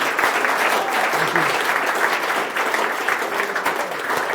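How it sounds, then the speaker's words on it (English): Steady applause from a crowd at a tech talk, dense and loud, continuing evenly without a break. "another round of applause for Steven."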